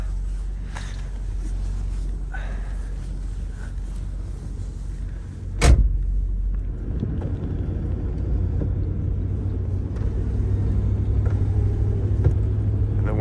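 Power windows and the divider glass of a 1960 Cadillac Series 75 limousine motor with a low, steady hum beneath the cabin rumble of the idling car, broken by one sharp click or thump partway through.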